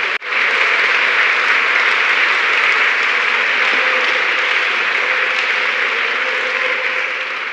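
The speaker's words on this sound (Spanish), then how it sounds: "Un aplauso para nuestro Dios ahora." Church congregation applauding during a Spanish-language service, a dense, steady roar of clapping that starts abruptly and stays loud and even throughout, with no voices over it.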